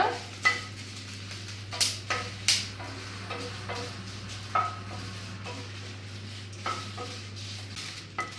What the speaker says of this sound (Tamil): இந்த மிளகாவும் நல்லா வந்து வறுத்து எடுத்துக்கலாம் நல்லா தீயாமல் பொன்னிருமா வறுத்துக்கோங்க